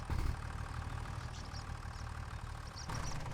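A small tractor engine in the farming game Farming Simulator 25 idles with a steady low rumble and rattle. It holds a constant level, and a slightly louder burst comes near the start and again near the end.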